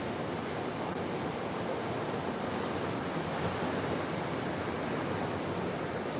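Rough sea surf off the Florida panhandle, a steady, full wash of breaking waves and wind noise, loud and unbroken, with no voices.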